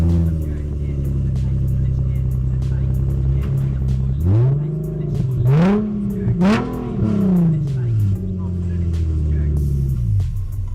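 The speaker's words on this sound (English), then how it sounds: "so I'm gonna start it up and see what it sounds like" A Nissan 370Z Nismo engine fires up and idles, then revs several times in quick swells before settling back to a steady rumble.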